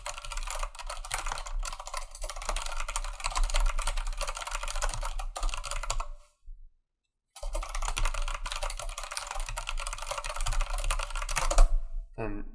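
Close, steady clatter of typing on a computer keyboard while writing Roblox script code, dense rapid keystrokes that stop for about a second mid-way and then resume.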